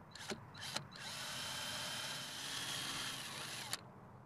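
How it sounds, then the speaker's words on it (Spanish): Power drill boring holes for an L bracket on a PVC stair rail, a steady close whine of the motor running for about three seconds, bracketed by short clicks and bumps. "Marque y perfore los agujeros."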